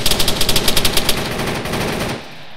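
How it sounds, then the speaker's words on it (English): A rapid burst of about a dozen evenly spaced machine gun shots fires in an ARMA 3 firefight. The shots are loud and close, then trail off into a fading rumble. "We are shooting here"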